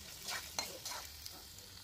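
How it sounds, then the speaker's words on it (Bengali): Potato pieces fry in hot oil with spices in a pan, a soft steady sizzle with a few stirring scrapes, faint and close, no talking. "আলুর টুকরোগুলো একটু লাল লাল করে ভেজে নেব"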